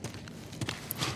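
Footsteps of the player character in the video game The Last of Us Part 1, a few soft close steps over a steady ambient hiss in a brief stretch.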